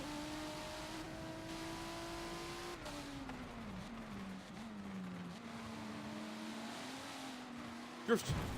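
GT race cars in a racing game hold a steady engine drone while accelerating on track, pitch shifting as gears change, with a brief sharp knock near the end.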